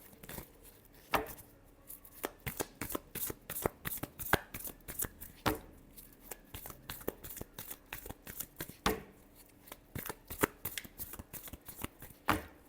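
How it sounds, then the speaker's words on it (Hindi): Tarot cards being shuffled by hand: a dense run of quick, crisp riffling snaps and flutters that repeat in bursts for the whole stretch, close and fairly quiet, with no voices. "last shuffle"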